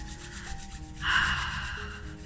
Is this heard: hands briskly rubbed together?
yes